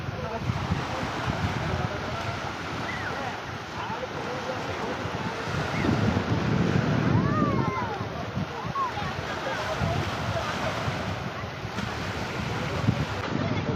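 Steady ocean surf rolls onto the beach at Thoothukudi, a continuous broad wash of breaking waves mixed with strong wind buffeting the microphone, with voices faintly underneath.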